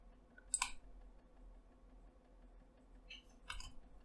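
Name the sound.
computer mouse clicks in Siemens NX software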